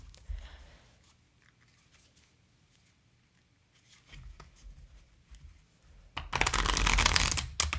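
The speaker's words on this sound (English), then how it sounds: "Here, I'll show you the shuffle." A deck of Hanafuda playing cards is shuffled nearby: soft shuffling and tapping at first, then a loud rapid riffle near the end.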